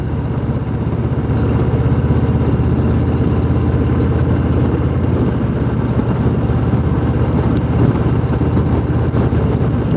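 Harley-Davidson Low Rider ST motorcycle engine idling close by, a loud steady low throb with even pulsing that holds for the whole stretch without revving.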